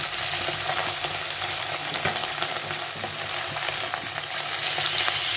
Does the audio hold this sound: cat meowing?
no